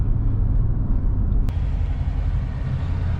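Deep, steady rumble of a 2020 Dodge Charger 392 Scat Pack engine heard up close, a loud low idle with a brief sharp click partway through, no voices.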